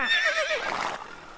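A horse neighs loudly as a sound effect in a Korean audio drama of Don Quixote, set in a grassy meadow: one close whinny with a shaky, falling pitch that fades into a breathy tail, with no talking.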